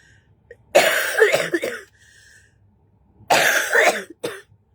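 Two bursts of harsh, close coughing separated by a short pause, each with a couple of rapid hacks.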